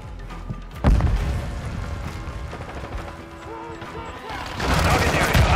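In Call of Duty: Modern Warfare II, a grenade explodes with a sharp thudding burst. Scattered gunfire and rumbling battle noise follow, with game voices calling out over the fighting.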